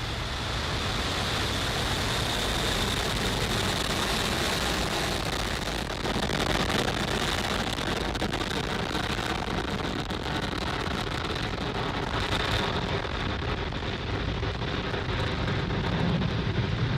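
Falcon 9 rocket lifting off from Pad 40 at Cape Canaveral Space Force Station, a steady dense broadband roar that holds loud throughout, distant and rumbling.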